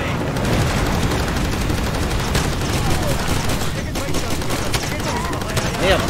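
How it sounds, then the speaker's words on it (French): Dense, continuous gunfire rattles in Far Cry 2 as enemies shoot at the player, loud and sustained throughout with a constant noisy background. "qui c'est qui me tire dessus?"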